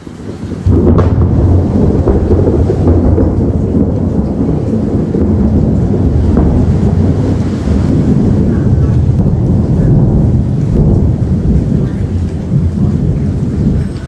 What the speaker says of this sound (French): il y avait une tempête et vraiment, il y a eu un fracas dans le ciel